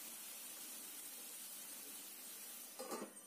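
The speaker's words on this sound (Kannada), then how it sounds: "ಹಸಿ ಬಟಾಣಿ ಕೂಡ 1 ನಿಮಿಷದಷ್ಟು ಫ್ರೈ ಆಗಲಿ ಎಣ್ಣೆ ಮತ್ತು ತುಪ್ಪದಲ್ಲಿ" Fresh green peas fry in hot oil and ghee for a potato and pea kurma, giving a steady, soft sizzling hiss throughout with a brief louder stir near the end.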